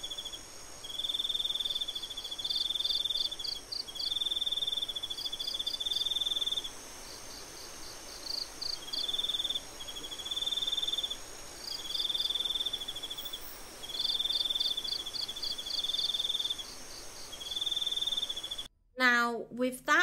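Game ambience of chirping crickets, with steady pulsed trills repeating in bursts over a quiet night-like bed, ending in a brief sharp cut-off sound.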